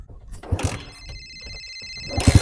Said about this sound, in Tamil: டேய் மறுபடியும் ஃபோன் அடிக்கிறியா?